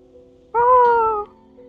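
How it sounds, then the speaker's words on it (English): A single clear meow, drawn out and close, rises over a quiet ambient tone from a cat in the Inazuma area of the video game Genshin Impact, with no talk during the call. "Cats are talking here."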